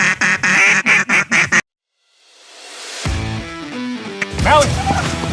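Mallard duck quacking, a rapid series of loud, close nasal quacks that stops abruptly, followed by a sharp report and more sounds afterward.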